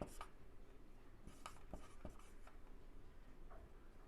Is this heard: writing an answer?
yes